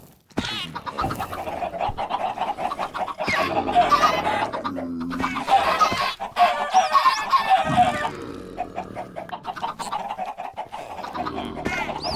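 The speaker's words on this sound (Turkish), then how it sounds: "Bu neydi? Tavuklar." Chickens in the video game Minecraft cluck in a series of short, close, moderately loud calls, with brief quiet gaps and no talk over them.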